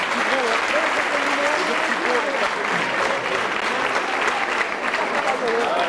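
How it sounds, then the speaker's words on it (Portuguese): Audience applause for a man at a 1998 Portuguese hairdressing fashion event, a steady dense clapping that fills the whole stretch with voices faintly underneath. "há uma palmas para ele também."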